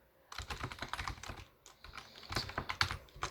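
Rapid typing on a computer keyboard, fast irregular key clicks in two bursts with a brief pause between them, close and clear with no talking.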